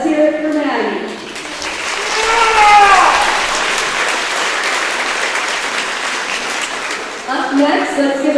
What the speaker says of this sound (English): Let's hear it for Maddie